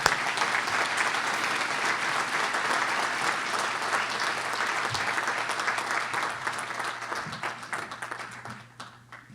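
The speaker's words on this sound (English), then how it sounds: "Now, let's give Melanie Lindsay a round of applause." Audience applause at a culinary school graduation ceremony for student speakers, a dense, sustained round of clapping from a crowd that holds steady and then fades toward the end.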